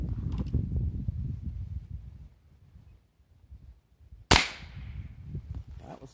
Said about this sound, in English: Let's take a shot with it.